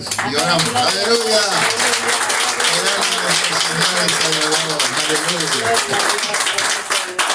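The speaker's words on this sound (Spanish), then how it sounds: "Denle un aplauso a Jesús." A church congregation applauds in a continuous patter of clapping under loud overlapping voices and a leader speaking in Spanish.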